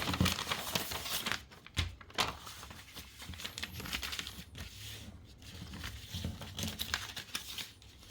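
Sheets of fresh pattern paper are handled while drafting a cravat pattern, giving soft, irregular crinkling and rustling that runs quietly throughout, with no talking.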